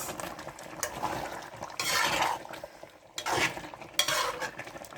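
Squid being stirred and fried in a pan, with scraping strokes and soft sizzling rising in short bursts, close and fairly quiet, no one speaking.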